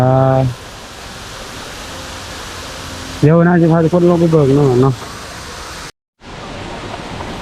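An indoor waterfall inside a shopping mall pours with a constant, loud, broad rushing hiss, while a person talks over it and a brief dropout interrupts the noise.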